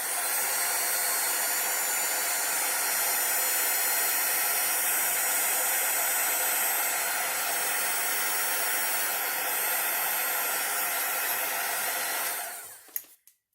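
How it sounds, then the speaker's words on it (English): A heat gun blows hot air across coffee-stained paper in a loud, steady, hissing roar that holds for about twelve seconds before switching off, with no talking. "I'm going to unfortunately have to bring my heat gun out again"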